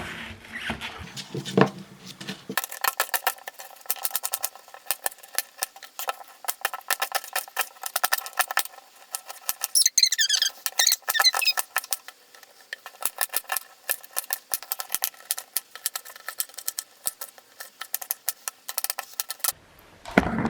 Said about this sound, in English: first thing I'm gonna do is cut up this onion